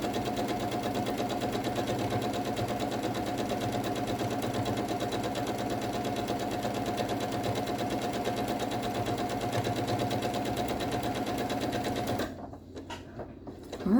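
A sewing machine stitches a labyrinth quilt with a fast, steady mechanical whirr and rhythmic clatter, loud and close, running without a break before stopping abruptly near the end.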